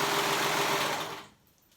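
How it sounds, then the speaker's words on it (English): A sewing machine stitches through the three layers of a jumper neckband, a loud steady run of rapid mechanical whirring that stops abruptly near the end. "make sure that you're sewing all 3 layers of your neckbands"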